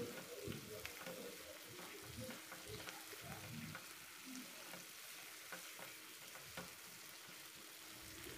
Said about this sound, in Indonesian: akan kita masak sebentar lagi sampai airnya benar-benar habis dan sambelnya berminyak